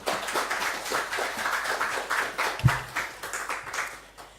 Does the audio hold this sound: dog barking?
no